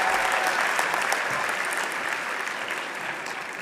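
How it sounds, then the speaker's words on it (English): Sustained audience applause at a fall college convocation ceremony for graduating interior decorating students, a dense, steady wash of many hands clapping that fades slightly toward the end. "please give a loud round of applause for the graduates from the Interior Decorating program"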